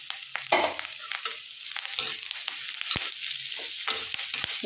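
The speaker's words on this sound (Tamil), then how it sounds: "ஓரளவு வதங்கினதுமே கட் பண்ணியிருக்க பீட்ரூட் போட்டுக்கலாம்" Cut beetroot sautés in a pan, crackling and sizzling up close while a spoon scrapes and knocks against the pan in brisk, irregular strokes.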